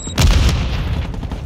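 A flashbang grenade goes off in a Call of Duty: Modern Warfare 2 team deathmatch on Shoot House, a single loud, close boom with a brief crackle that trails into a fading rumble.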